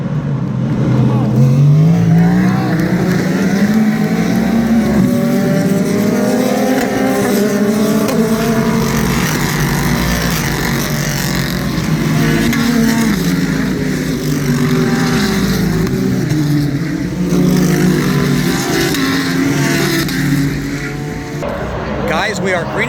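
Race cars at the 2023 IMSA Petit Le Mans accelerate hard out of turn 10, a loud, sustained engine roar with rising and shifting pitches as several cars pass close by, with talk underneath.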